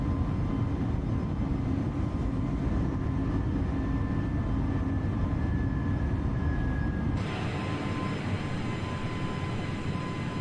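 Simulated Airbus A320neo engines roar steadily at full takeoff power through the climb out of Madrid, a continuous broadband rumble with a faint rising whine, shifting tone abruptly partway through.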